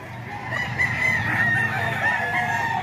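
Roosters crow together at a stall selling fighting cocks, a dense, steady chorus of overlapping calls at moderate distance.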